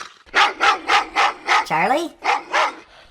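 A big dog barks in a quick run of about eight loud, close barks with a whimpering yelp in the middle, and a voice calls out once.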